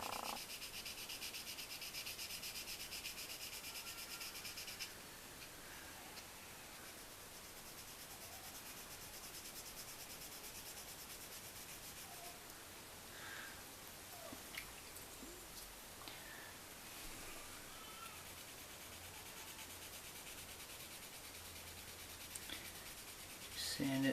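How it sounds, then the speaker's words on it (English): Soft, steady scratching strokes of light hand sanding on a part during finish work with very little pressure, quiet and close, with occasional faint knocks and no talk. "Sand it very lightly."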